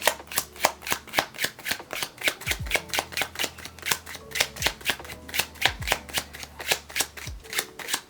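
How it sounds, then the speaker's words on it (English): Rapid, regular riffling of playing cards being overhand shuffled, crisp slaps in a steady rhythm, close and clear with no talking. "you want to apply enough pressure onto the cards as you actually overhand shuffle them"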